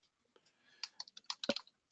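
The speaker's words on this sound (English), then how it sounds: "I'm typing these in for you right now" Computer keyboard typing: a quick, uneven run of distinct key clicks and taps, close and fairly quiet, with no talking.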